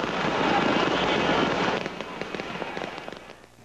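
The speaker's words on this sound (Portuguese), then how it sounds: "Na hora da virada, 6 minutos de fogos para atrair boas energias em 2005." New Year's fireworks over the beach at Boa Viagem, Recife, pop and crackle in a dense, rolling barrage that thins into scattered bangs and fades away.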